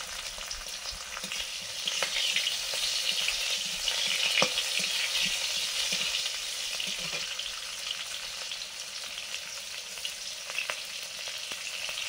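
Panch phoron spices, green chillies and raw mango sizzle steadily in hot oil, a bright continuous frying hiss with occasional stirring clicks, close and alone without talk.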